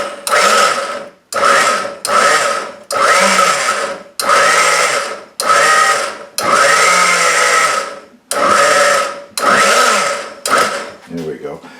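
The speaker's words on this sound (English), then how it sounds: "You just blend it until it's all mixed in" An old blender mixing strawberries with sugar whirs loudly in short repeated pulses, each a few seconds long and separated by brief pauses, with the motor pitch wavering as it churns.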